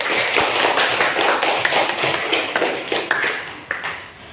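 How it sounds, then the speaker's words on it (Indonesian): A classroom of students claps for a group, a dense, steady patter of many hands close by, with a few sharper individual claps standing out. "baik kita kasih tepuk tangan buat kelompok pramugari ya"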